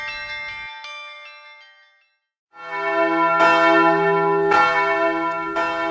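Church bells ring out from a tower in the rhythmic Slovenian pritrkavanje style, with bright overlapping strikes that fade into a brief pause before a fuller, louder peal resumes and sustains with repeated accents.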